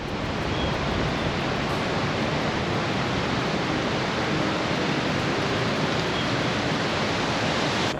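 Steady, broadband roar of a waterfall in Glacier National Park, loud and continuous for the whole stretch with no break or voices.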